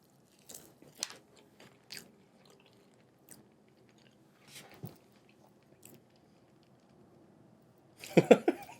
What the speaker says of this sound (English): Definitely puff pastry because I'm getting that nice crunch from that